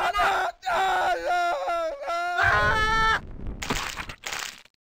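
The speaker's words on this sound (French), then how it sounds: "Les cris de douleur sont les meilleurs." Harsh, strained screams of pain from enemies in the first-person shooter Blood, several loud wavering cries in quick succession, then shorter shrieks and gurgles toward the end before falling silent.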